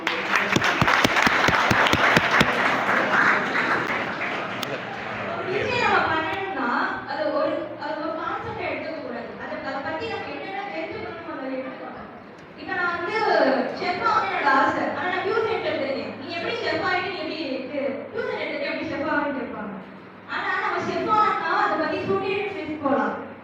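An audience at a school education development day celebration in Sivagangai claps in a sustained burst of applause, followed by someone speaking in Tamil over a hall microphone, with the clapping swelling again in waves beneath his voice.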